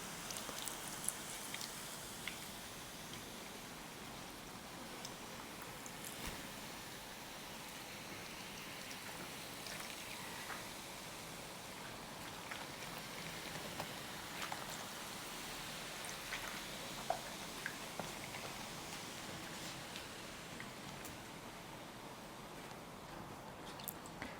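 Light beer is poured in a circle into a kazan of Armenian khashlama with beef and vegetables, making a faint, steady patter and splash without pause, quiet and close.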